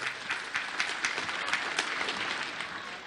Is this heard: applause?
yes